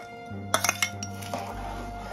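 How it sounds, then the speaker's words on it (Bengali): Rice pudding in a pot stirred after crushed batasha sugar goes in, giving a quick cluster of close metallic clinks from a spoon against the pot over a steady low hum, with no voices. "একটু ভালো করে নাড়াচাড়া করে নেব।"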